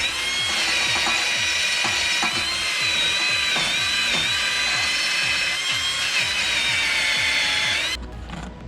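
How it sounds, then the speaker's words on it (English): Wire brush scrubbing rust and grime off a brake caliper bracket during a brake job on a 2012 Toyota Highlander: loud, close, continuous rapid back-and-forth scraping strokes for about eight seconds, then it stops abruptly. "So we'll just come in here with our wire brush and try to clean some of this off."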